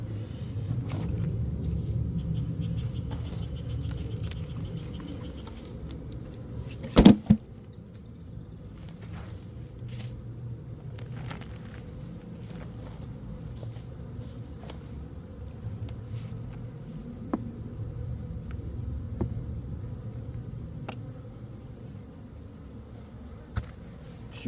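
Honeybees drone in a steady, dense hum at an open beehive during an autumn colony inspection, a close continuous buzz with one brief knock partway through.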